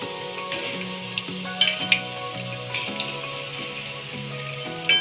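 Bread and potato bhaji fritters sizzle steadily in hot oil while being turned, a constant crackling fry with scattered pops and spatula scrapes, close up and without voices.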